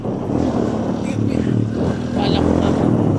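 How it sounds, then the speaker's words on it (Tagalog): A motorcycle engine drones close by and rises slightly as it goes past, with voices talking over the rumble. "Uy, may motor."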